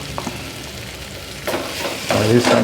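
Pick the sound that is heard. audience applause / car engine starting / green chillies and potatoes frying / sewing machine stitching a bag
green chillies and potatoes frying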